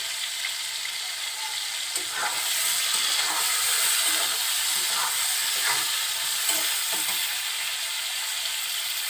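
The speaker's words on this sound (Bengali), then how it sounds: "তেলের ভিতরে লবণ হলুদ দিয়ে চিংড়ি মাছটা খুব অল্প সময়ের জন্য এপিট ওপিট নাড়াচাড়া করব।" Prawns frying in hot oil with salt and turmeric, a steady close sizzle with occasional stirring clatter as the pieces are turned briefly on each side.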